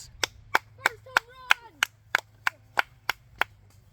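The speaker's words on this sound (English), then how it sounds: "That deserves a round of applause." One person claps slowly and evenly, about a dozen sharp, isolated claps, while a short voice cheers faintly in the middle; this follows a hit in a backyard wiffle ball game.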